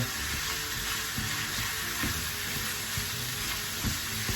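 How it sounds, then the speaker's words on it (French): Meat frying in a pan with onions and spices sizzles steadily and close by, with a few soft stirring knocks; no one talks. "vous le faites revenir à la poêle avec des oignons, des épices, comme vous feriez pour de la viande."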